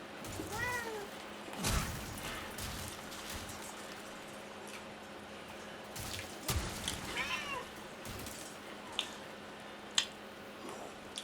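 A cat meows several times, close and clear, with drawn-out rising calls spread among soft scuffs, drips and small clicks in a quiet room.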